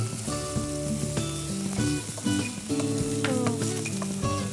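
Onions sizzling loudly in hot oil in a pan, with steady frying hiss and repeated scraping and stirring strokes of a spatula, close and continuous, no voices.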